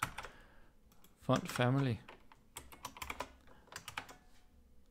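Computer keyboard keys clatter in quick bursts as someone types code, with a short spoken phrase in between and the tapping resuming afterward.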